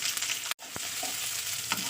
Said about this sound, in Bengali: পেঁয়াজটা একটু ভাজা করে নিতে হবে